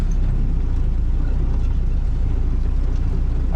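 A Willys Hotchkiss Jeep crawls in low gear through woodland, its engine a steady, close, low rumbling drone with no voices over it.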